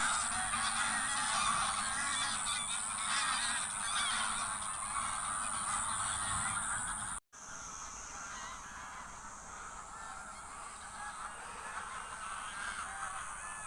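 At a zoo, geese or similar waterfowl honk continuously in a dense, loud chorus. Halfway through there is a brief cut, after which the calling carries on slightly softer, with no speech.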